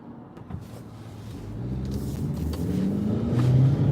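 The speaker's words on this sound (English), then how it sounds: "So much traffic, it's unbelievable." Steady road rumble from inside a moving car in heavy traffic in the NSW Northern Rivers, with engine noise swelling and a rising tone as the vehicle accelerates, growing louder toward the end.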